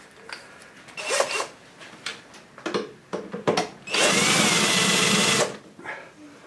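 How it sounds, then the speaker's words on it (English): Loosening and removing a bolt from the cabinet of a Rock-Ola 430 jukebox during restoration: a series of short scraping and ratcheting bursts, then a steady loud power-tool whir for about a second and a half, then a few brief taps. "So let's take that bolt out first, because that's the hard job."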